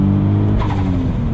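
VW Bora with a V6 turbo engine and GT35 turbocharger pulls under throttle, a steady low engine drone heard from inside a fairly quiet cabin, with the tone rising slightly partway through.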